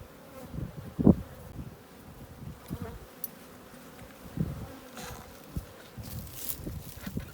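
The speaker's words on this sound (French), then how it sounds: "éviter qu'il y ait trop d'abeilles qui s'envolent de la ruchette" Honeybees buzzing around an open Dadant nucleus hive during a colony split, a dense continuous hum close by with occasional bumps and handling knocks, no voices.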